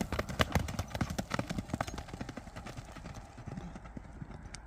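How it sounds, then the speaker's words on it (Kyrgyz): Hooves of a horse for sale clip-clop in a quick, irregular run of close, sharp knocks that gradually thin out and soften. "Өте жақсы ат, Жәміл."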